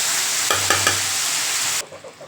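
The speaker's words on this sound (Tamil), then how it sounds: "வெங்காயம் தக்காளிலாம் நல்லா வதங்கிடுச்சுங்க இப்போ இன்னும் இன்னும் நல்லா வதங்கணும்" Onions and tomatoes sauté in a pan for garlic kuzhambu, a loud brief sizzle with a few quick stirring clatters, then cutting out to faint scraping.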